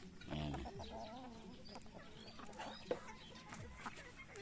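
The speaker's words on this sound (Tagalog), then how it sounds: "Ito yung mga nangingitlog natin." Egg-laying hens cluck close by in a rural yard, a string of short calls and bursts over faint background, with a person talking softly at times.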